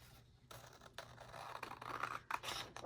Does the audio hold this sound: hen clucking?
no